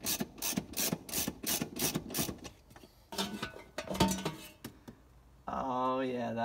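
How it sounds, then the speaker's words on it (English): Metal clinks and ratcheting clicks from a wrench backing out 10 mm bolts on the ECU kick plate of a 1987 VW Vanagon, a quick run of close taps and rattles with a steady tonal hum near the end. "I'm gonna go ahead and remove these 10 millimeter bolts"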